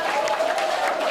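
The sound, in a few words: audience applause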